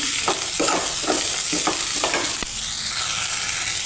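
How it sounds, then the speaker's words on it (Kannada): Ridge gourd curry with capsicum masala fries in a pan over medium flame, a loud continuous sizzle broken by regular scraping stir strokes, close up and without talking. "ನೋಡಿ ಇದನ್ನು ಹಾಕಿದ ಮೇಲೆ ಒಂದು 2 ನಿಮಿಷ ಮಿಕ್ಸ್ ಮಾಡ್ತಾನೆ ಇರಬೇಕು."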